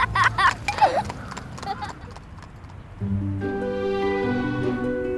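Horses race around a home track in County Durham, hoofbeats clip-clopping in a quick rhythm at first, then a steady engine-like drone with harmonic hum takes over from midway.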